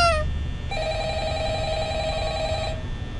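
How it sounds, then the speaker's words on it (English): Telephone ringing in the Five Nights at Freddy's video game: a short ring at the start, then one long sustained electronic ring tone, loud and close over a low hum. "Yeah, answer the phone."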